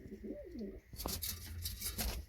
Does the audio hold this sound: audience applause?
no